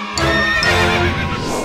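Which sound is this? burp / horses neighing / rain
horses neighing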